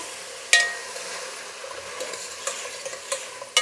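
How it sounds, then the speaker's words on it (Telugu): Vegetables for sambar fry in a pan with turmeric, producing a soft, steady sizzle with a few sharp clicks and scrapes from stirring. "ఇప్పుడు కాయగూరలు అంతా బాగా వేయించుకోవాలండి."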